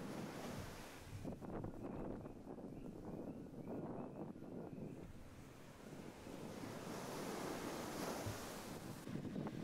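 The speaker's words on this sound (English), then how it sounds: "when the waves are crashing into it and when it recedes out, it creates these lines of water" Ocean waves crash onto rocks at a green sand beach, a loud continuous roar of surf with rushing water and wind buffeting the microphone throughout.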